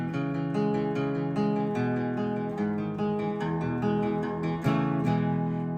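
An acoustic guitar in open D tuning strums the verse, with steady rhythmic chords and percussive strokes, played close and alone.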